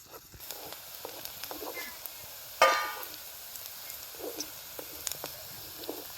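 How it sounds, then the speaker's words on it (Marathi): Onions fry over a wood-fired stove with a low sizzle as a spoon stirs them in light taps and scrapes, one sharper hiss or scrape standing out midway; close and quiet. "सारखं हलवत राहायचं म्हणजे चांगलं हे तळसत आहे"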